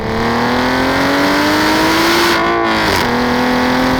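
Aston Martin DB9 GT Bond Edition engine revving: a loud, steady engine note climbing in pitch for a couple of seconds, briefly lifting off, then settling into a sustained drone, close up and heard with no voices.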